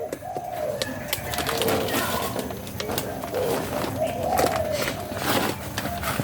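Spotted doves of the Malay line, young caged birds, coo in repeated phrases close by, with a steady background hum and faint crowd-like noise beneath.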